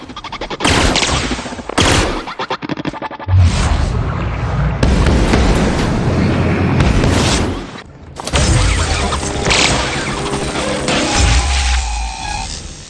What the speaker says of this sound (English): The explosion took down the mechanical with ease